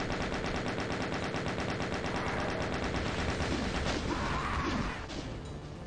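Chaingunners in Doom's TNT: Evilution let loose a loud, continuous rattle of rapid gunfire that runs unbroken for several seconds and eases slightly at the end.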